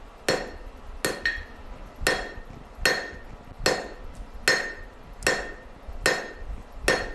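A hammer strikes an anvil while a butterfly knife is forged, giving about nine sharp, ringing metallic blows at a steady pace of roughly one per second, close and distinct.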